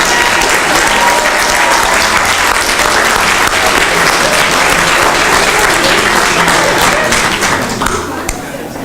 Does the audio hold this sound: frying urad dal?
no